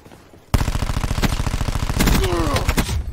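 Gunfire in the video game Call of Duty: Black Ops 4: loud, rapid automatic bursts start abruptly and rattle on continuously, with a few sharper single cracks mixed in near the end.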